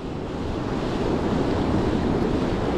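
Waves break into whitewash along a rocky bay shore, a continuous broad roar of surf with wind buffeting the microphone, no voices.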